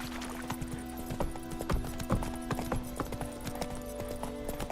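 Horse Roach's hooves clip-clopping in a fantasy video game, a steady rhythmic trot of close, distinct hoofbeats over a constant low musical drone, with a few heavier thuds along the way.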